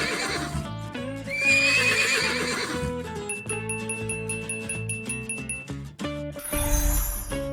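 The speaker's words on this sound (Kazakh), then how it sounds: "Бұл жылқы." A horse whinnies loudly and close, followed by rhythmic clip-clopping hooves and a bright ringing chime, all clear with no talking.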